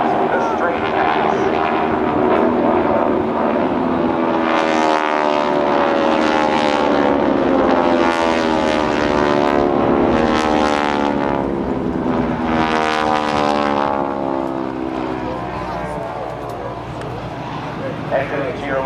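A GEICO Skytypers propeller plane rolls right and dives on a straight pass at the 2008 NAS Oceana airshow, a loud droning engine whose pitch rises and falls as it passes, with an announcer talking over it throughout.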